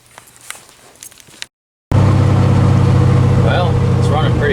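A 1984 Chevrolet K20 truck with an LS engine swap runs with a loud, steady, rumbling drone after a brief quiet moment, close up, and a voice talks over the engine.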